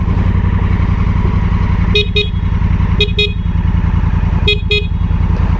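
Motorcycle engine running steadily and close while riding, a loud continuous drone with a vehicle horn honking in short double blasts three times over it.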